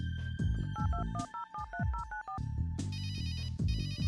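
A telephone rings in the adventure game Runaway: A Road Adventure, loud electronic warbling trills in quick pulses, followed by a denser, higher ringing pattern.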